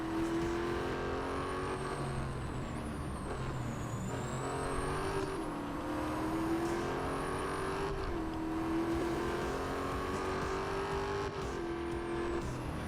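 Simulated race car engines from the Real Racing 3 game on Apple TV drone steadily throughout, with rising and falling pitch as cars accelerate and shift, a continuous moderate engine roar with no talking.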